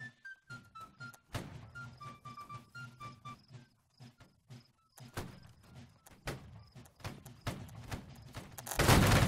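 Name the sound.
musket volley fire from a line of soldiers, video game Holdfast: Nations At War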